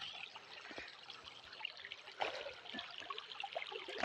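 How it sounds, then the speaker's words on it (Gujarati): River water flows past a broken check dam in a steady, close, broadband rush, with small splashes and gurgles scattered through it and no voices. "નદીમાં પાણી જાય છે"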